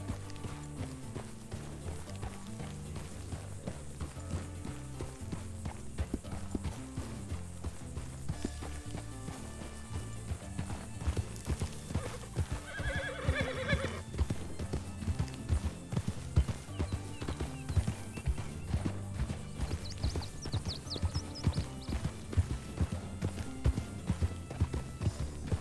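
A horse in a western video game gallops with fast, steady clip-clop hoofbeats throughout, joined by a brief neigh midway and another whinny later, over a continuous low backdrop.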